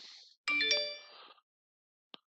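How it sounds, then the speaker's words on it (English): A phone chimes with a bright, ringing text-message alert tone lasting under a second, then a short soft blip follows after a pause, in an otherwise quiet room. "And you might be able to hear my phone"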